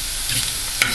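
Shrimp sizzling on a grill beside mushrooms, a short steady hiss with a single sharp crackle near the end, close and loud with no voices.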